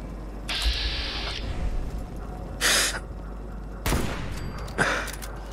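Automated turret firing in the video game Fallout 4, a few sharp separate bursts of gunfire spaced across the clip over a steady hum, with no talking.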